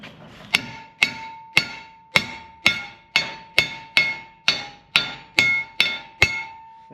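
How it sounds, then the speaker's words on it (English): Twelve sharp hammer strikes ring against a metal bed frame at an even, unhurried pace, each hit clanging briefly with a bright metallic tone. "we should need to knock this over a little bit on this one. I have a hammer here."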